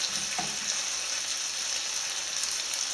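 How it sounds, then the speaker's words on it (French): Squid cooked Spanish-style in a pan over very low heat sizzles gently and steadily, with a couple of faint scraping stirs early on and no talking. "Alors maintenant, on va mettre à tout petit feu. On remue doucement le tout."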